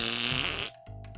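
A fart sound effect, a loud, buzzy, sputtering blast that cuts off briefly and then resumes with a shorter second burst, close and on its own.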